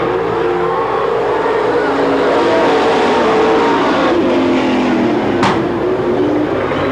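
Race cars at a weekly demolition-derby racing series in Watsonville, California, in 1993: engines roar in a loud, continuous wall of sound as the pack races for the lead, with a brief sharp crack near the end.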